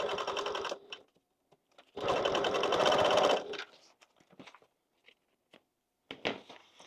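A sewing machine stitches a seam across the inside of a bag lining, running in two loud bursts of rapid, even needle clatter with short pauses and small clicks between them, and a brief restart at the end.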